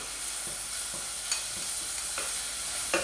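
Dry spices including turmeric and chili powder being stirred into frying onion, garlic, ginger and green spinach for chana masala. A steady soft sizzle runs throughout, with a few faint scrapes of the spoon.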